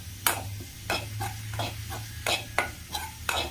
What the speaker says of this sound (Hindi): इसे हम मीडियम फ्लेम पे ही पूरी तरह से ब्राउन होने तक भूनेंगे और इसे लगातार चलाते रहिए